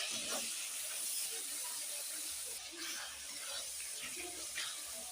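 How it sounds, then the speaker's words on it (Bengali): Water poured into a cooking pan over spiced kochu shaak with turmeric and cumin powder, a steady close splashing hiss with faint sizzling throughout, no voices. "জল দিয়ে দিলাম,"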